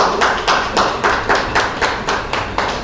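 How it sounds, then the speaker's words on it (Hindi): A crowd at an award ceremony claps together in slow, loud, rhythmic unison to welcome a guest of honour, about three beats per second with no talking. "आप सभी उनका तालियां बजाकर स्वागत करिए।"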